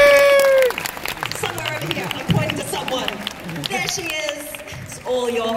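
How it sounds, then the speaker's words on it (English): Audience applause and cheering rise at a costume presentation at a cosplay nationals event in Brisbane, a broad steady wash of clapping from a crowd with voices and a presenter talking over it throughout. "Get a round of applause!"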